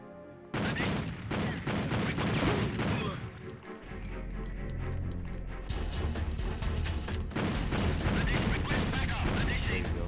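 Shotgun blasts in a video game, loud repeated shots in dense bursts at the start and end with a chaotic middle stretch of continuous firing and game noise, heard alone without talk.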